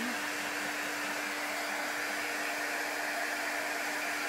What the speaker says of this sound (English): you're using a really intense heat gun like this